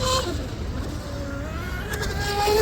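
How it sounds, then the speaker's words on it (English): Small homemade M700 RC boat with a TP motor running at full throttle on the water, a steady high-pitched motor whine that shifts in pitch as it speeds along, heard from a distance over wind and water noise. "This TP motor has some serious power."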